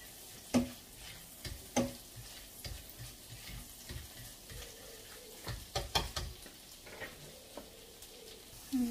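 Garlic frying in a pan, a steady sizzle with occasional sharp stirring clicks and scrapes, close and continuous with no talking.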